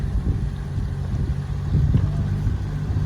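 A Tracker Pro 170 boat fitted with a hydrofoil runs on its 40hp Mercury outboard, giving a steady low engine drone mixed with wind buffeting. The sound continues without a break, and no one speaks.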